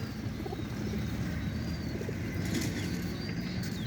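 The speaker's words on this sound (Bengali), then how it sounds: "এই যে আমার কবুতর গুলা" Pigeons flapping their wings close by, a steady fluttering rush that runs throughout, with faint coos underneath and no speech.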